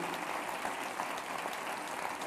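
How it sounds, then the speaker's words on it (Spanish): A church congregation applauds steadily throughout, a dense, even wash of clapping with no clear pauses or standout voices. "Dele el aplauso"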